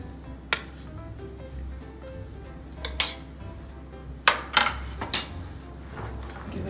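Cookie batter is stirred in a bowl, the utensil knocking and clinking against its sides in a few sharp bursts over a quiet background hum, close by and without talk.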